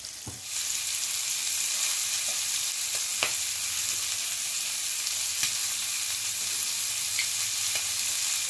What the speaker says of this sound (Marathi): गॅसवर दोन्ही बाजूनी चांगलं फ्राय करून घ्यायची।